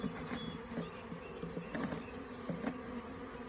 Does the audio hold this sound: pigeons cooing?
no